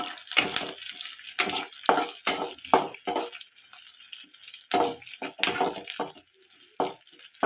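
Curry leaves and lightly crushed garlic fry in hot oil, crackling in loud irregular sizzling bursts with short quieter gaps between them.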